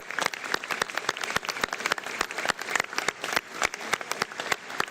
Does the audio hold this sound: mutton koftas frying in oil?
no